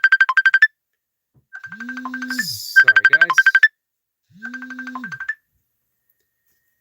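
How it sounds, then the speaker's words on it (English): A mobile phone ringtone plays in bright, repeating melodic bursts, loud and close, pausing between rings, while a voice briefly speaks in the middle. "That's my phone ringing."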